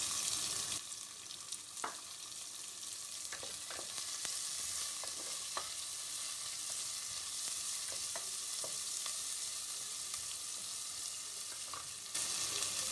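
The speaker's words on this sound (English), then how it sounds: "Now add the sliced onions to it and make sure the onions are translucent, so you might have to cook for a few minutes." Sliced onions fry in oil in a pan for a moong pulao, giving a steady, close sizzle throughout with occasional soft clicks and scrapes of stirring.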